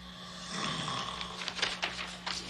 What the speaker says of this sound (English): You couldn't hear anything over that snoring.